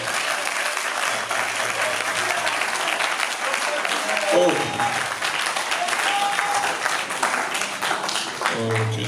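Sustained applause and cheering from a church congregation at a French-language preachers' debate on unity, a loud, continuous roar of clapping with shouted voices rising above it and a brief exclamation near the end.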